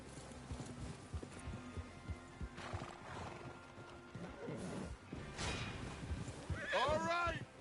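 Horses in the Red Dead Redemption 2 video game, with clopping hooves and one clear whinny near the end over a low rumbling background. Voices speak at times.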